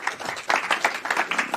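A conference audience at a Davos climate event claps in a brisk, moderately close round of applause, with individual hand claps audible in an irregular patter.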